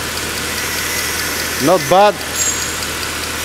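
A Mercedes C63 engine idles at low, steady revs with dirty, degraded oil inside, a close mechanical hum running under a brief spoken remark.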